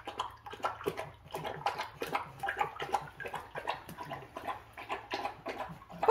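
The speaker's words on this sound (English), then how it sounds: "She's just only drinking the water." A dog laps water in quick, rhythmic wet slurps, close and fairly soft, continuing steadily with a faint low hum underneath.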